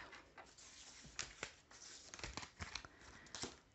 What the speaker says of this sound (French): Je vais juste ranger mes cartes.